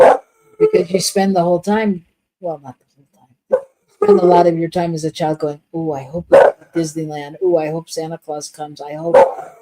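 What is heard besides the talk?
dog barking in the background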